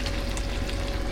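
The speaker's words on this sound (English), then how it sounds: "you hear that sizzle?" Steak and chicken sizzle steadily on a small Ozark Trail portable camp stove, a dense continuous hiss close by with no talking.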